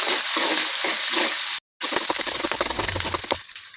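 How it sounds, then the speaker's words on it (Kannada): Green chilies frying in hot oil for gatti avalakki give a dense, continuous sizzle, briefly cut off, then returning with scattered crackles and stirring clatter, close and loud with no talk. "ಇವಾಗಲೇ ಹಸಿಮೆಣ್ಸಿನ್ಕಾಯಿ ಹಾಕ್ಕೊಂತೀನಿ."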